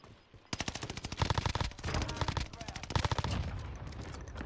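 Volk assault rifle fire in Call of Duty Warzone on Rebirth Island, rapid automatic bursts of sharp, loud, closely spaced shots with brief gaps between volleys.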